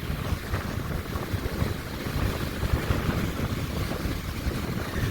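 Strong storm wind roars steadily across the Dauphin Island shoreline as Tropical Storm Barry nears landfall, a dense, gusty rumble buffeting the microphone throughout with no voices.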